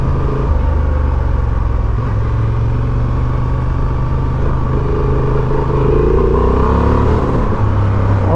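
Honda Transalp XL750 motorcycle engine pulling hard in second gear, a loud, steady close-up drone with a rising pitch as it accelerates, mixed with wind rumble and no talking.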